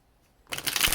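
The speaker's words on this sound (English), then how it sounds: "Kind of want to do one more shuffle, so I'm just going to do that." A deck of tarot cards shuffled by hand, a quick burst of crisp riffling that starts after a near-silent pause and runs close and loud to the end.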